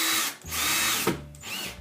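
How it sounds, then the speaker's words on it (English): A power drill drives screws through L brackets into a wall in two loud, close whirring bursts separated by a brief pause. "begin screwing your screws into or screwing your L brackets with your drill right into the wall"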